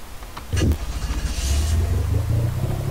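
A small British car's engine starts in a video game and settles into a low, rumbling idle that holds steady and close, with faint clatter just before it catches.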